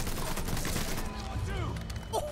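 Bursts of AK rifle gunfire from the Mafia III video game crack out in quick succession under a mix of game sounds, with a brief rising tone near the end.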